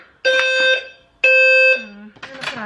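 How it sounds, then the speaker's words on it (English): A loud electronic fire alarm blares in two long harmonic bursts with a short gap, followed by a voice speaking, in an apartment. "The fire alarm went off."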